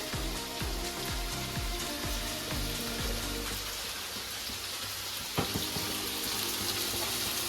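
Mutton pieces fry in oil with a steady, dense crackling sizzle close by, busier at first and then settling into an even hiss, with one sharp pop partway through and no voices.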